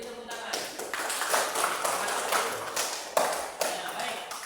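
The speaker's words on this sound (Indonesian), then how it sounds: "Beri tepuk tangan." Students in a classroom applaud, giving a few seconds of steady, dense hand clapping that rises and falls slightly, moderately close.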